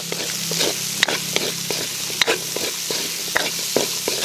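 Onion fries in a pan for chicken manchurian, a steady close sizzle interrupted by a few sharp clinks and scrapes as it is stirred, with no talking.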